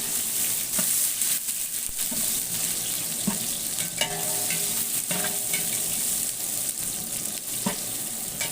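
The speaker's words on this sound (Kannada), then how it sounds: "ನೋಡಿ, ಈ ಥರ ಈರುಳ್ಳಿ ಉರಿಬೇಕು." Onions frying in a pan of oil while ghee rice and chicken gravy are cooked in large batches, a steady close sizzle with occasional stirring clinks and scrapes throughout, no voices.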